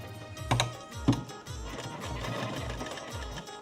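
Sewing machine stitching a katori blouse, running steadily in a repeating mechanical rhythm with a couple of louder clunks near the start, close and moderately loud with no talk.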